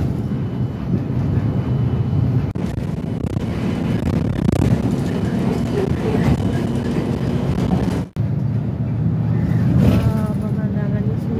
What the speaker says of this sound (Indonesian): Sekarang kita udah ada di bus ya kawan-kawan.